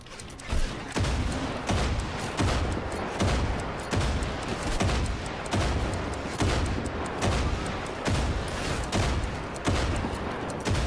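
Grenade explosions and gunfire in Far Cry 5, a dense, continuous barrage of loud bangs and bursts repeating at a rapid, irregular rhythm throughout.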